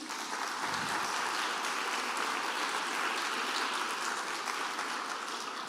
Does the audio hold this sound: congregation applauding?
yes